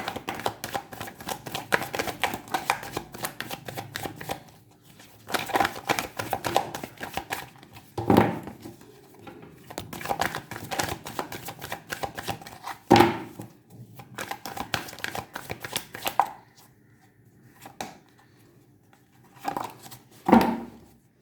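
A deck of tarot cards is shuffled by hand in repeated riffling, rustling bursts with brief pauses between, fairly close and moderately loud, with no talk over it.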